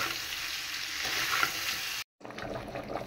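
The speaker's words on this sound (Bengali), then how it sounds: "তো এই তেলের মধ্যে মাংসটাকে আমি একদম ভাজা ভাজা করে ফেলব" Beef chunks, seasoned only with salt, fry in the fat they have released while making a Bangladeshi kala bhuna: a steady, close, loud sizzle, broken by one brief silent gap near the middle.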